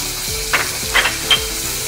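Spices sizzling in hot oil in a pan for beef haleem, a steady close fry with three brief louder bursts as the pan is stirred.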